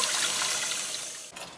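Tap water runs steadily over ground acorns being rinsed until the bitter liquid clears, a continuous close splashing rush with a brief dip near the end and no voices.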